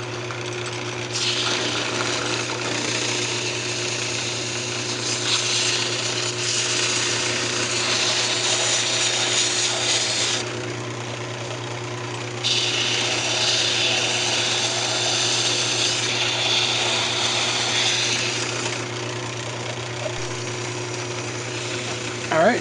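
Wood lathe spinning steadily while a turned candlestick is sanded, a continuous motor hum with broad hissing abrasion that swells and fades in long passes.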